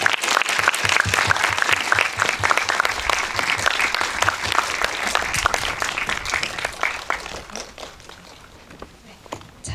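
An audience at an indie film festival screening Q&A breaks into loud, dense applause as the director and actors walk in. The clapping stays steady throughout and thins slightly near the end.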